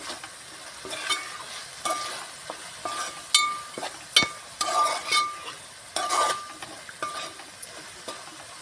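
Snails cooking in a pan get stirred with a utensil, giving intermittent scraping and clinking strokes over a soft, steady sizzle, close and fairly quiet.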